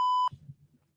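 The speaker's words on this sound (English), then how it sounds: "Did you just beep yourself?" A short censor bleep, a steady pure tone lasting about a quarter second, cuts off abruptly and leaves faint muffled remnants of a voice trailing off.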